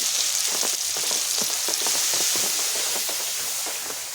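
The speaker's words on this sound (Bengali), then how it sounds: "টমেটোটা একটু ভাজা ভাজা হতে টাইম দিতে হবে।" Tomato frying with salt and turmeric in a pan for a village-style mustard fish curry, a steady close crackling sizzle with dense popping and hiss throughout, no talk.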